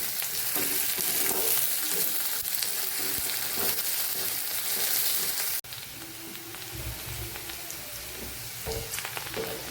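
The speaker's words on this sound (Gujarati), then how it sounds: "તો આપણે થોડી થોડી વારે હલાવતા રહીએ એટલે બધી સાઈડથી એ પાકી જાય" Okra sautés in a nonstick pan with a strong, crackling sizzle and periodic stirring scrapes. The sound drops briefly midway, then the frying continues a little quieter.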